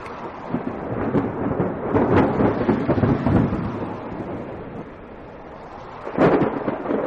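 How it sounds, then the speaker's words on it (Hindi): Steady rain hisses and patters throughout in a jungle, with a rumble of thunder swelling in the middle and a sharper burst near the end. "उनके लिए यह पहली बारिश थी जो उन्हें किसी अजूबे से कम नहीं लग रही थी।"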